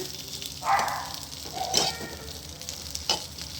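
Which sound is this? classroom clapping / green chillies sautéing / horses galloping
green chillies sautéing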